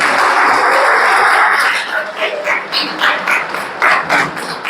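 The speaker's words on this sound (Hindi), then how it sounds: "इन दोनों के लिए ताली बजाओ" Audience clapping for two participants at a mental health awareness program in a polytechnic hall, a dense burst of applause that thins into scattered, irregular claps with background voices.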